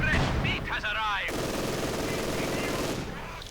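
Machine-gun fire from a pintle-mounted MG42 on a Panzer IV tank in a World War II strategy game. A dense, steady burst runs throughout the clip, with a voice talking over its opening.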